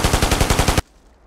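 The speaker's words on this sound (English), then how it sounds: "Press the fire key to fire the machine gun." A fixed mounted machine gun fires in the Ghost Recon PC game, a loud rapid burst of about eight evenly spaced shots that cuts off abruptly into near silence.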